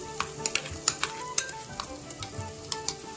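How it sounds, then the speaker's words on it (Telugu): Herb paste frying and being stirred in a pan, with soft sizzling and repeated clinks of a spoon against the pan, steady and close with no voices. "దీన్ని కూడా 1 నిమిషం పాటు ఫ్రై చేసుకుందాము"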